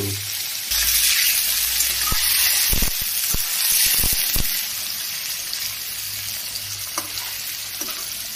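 Paneer frying in a pan for a matar paneer dish: a steady, close sizzle throughout, broken by a few sharp scrapes and knocks of stirring.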